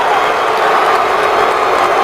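Stadium crowd at an Eagles NFL game, a loud, dense roar of booing and jeering fans that holds steady and unbroken for a couple of seconds.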